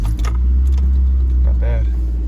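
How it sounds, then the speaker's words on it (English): A Mazdaspeed Protege engine with 102,000 miles starts cold at about freezing, then settles into a steady low idle rumble close by, with keys jangling and faint voices over it. "Let's see how she starts up cold."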